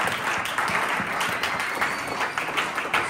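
Church congregation breaking into sustained applause, dense steady clapping filling the room throughout, with faint voices mixed in.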